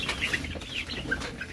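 Young chicks cluck and peep steadily at close range in a poultry brooder during the feathering-out age, with faint wing flapping mixed into the busy, continuous chatter.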